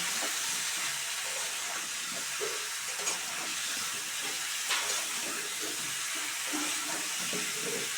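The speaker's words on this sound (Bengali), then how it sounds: "এই দেখ এবার এটাকে খুব ভালো করে ভাজবো লাল করে" Cauliflower and potato pieces fry in hot oil until browned, giving a steady, close sizzling hiss that holds even throughout, with soft crackles and pops scattered over it and no voices.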